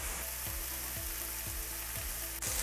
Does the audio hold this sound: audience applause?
no